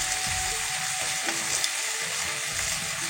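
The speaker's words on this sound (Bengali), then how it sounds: "সুন্দরভাবে কষানো হচ্ছে আর খুব সুন্দর একটা গন্ধ বেরিয়েছে" Fish is sautéed and stirred in a pan with spices, giving a bright, constant sizzle with soft stirring scrapes throughout and no speech.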